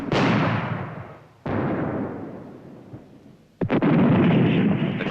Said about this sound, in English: Once down, the guns are soon in action, responding to target information passed on by signallers in the battalion command post.